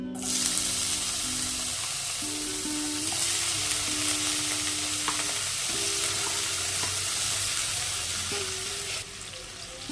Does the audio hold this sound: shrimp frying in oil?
yes